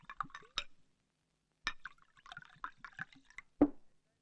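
Soda fizzes and splashes as it is poured into a glass to dilute a drink, with short liquid bursts, glassy clinks and a final clunk, heard close and fairly quiet with no voices.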